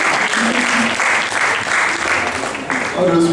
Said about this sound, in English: Please, that deserves a round of applause.